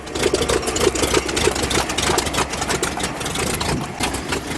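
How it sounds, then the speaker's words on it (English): A 1974 International Fleetstar ex-fire truck's big diesel engine idles nearby, its low, lumpy rumble pulsing unevenly and steadily with no voices over it. "Sounds like it's got a pretty mean cam."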